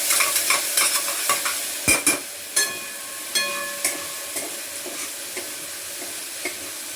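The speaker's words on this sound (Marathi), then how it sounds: "आता कांदा टमाटर परतलाय." Onion and tomato stirred and sautéed in a pan, a spatula scraping and clacking in irregular strokes over a steady frying sizzle, close and fairly loud with no voices.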